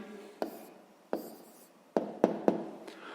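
Pen or pencil writing out a maths answer by hand on paper, a few short quiet scratchy strokes and taps spaced out across a few seconds, close and faint, with no talking.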